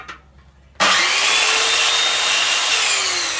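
An Evolution Fury 3 circular saw bites into a decking board after a brief lead-in, producing a loud, steady, high-pitched cutting whine and rasp that holds without a break to the end.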